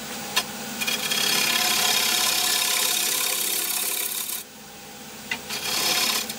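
A bowl gouge makes a pull cut roughing out a wooden blank for a sword part on a spinning lathe, a loud, continuous close rasping scrape that cuts out briefly, then resumes.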